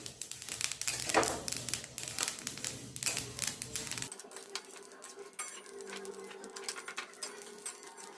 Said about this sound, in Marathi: असा आवाज येतो मग अशी तीळ भाजून घ्यायचे